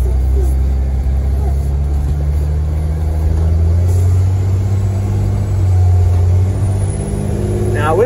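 A Peterbilt 330 truck hauling cattle drives along, its engine a steady, loud low rumble that holds throughout with slight rises as it pulls.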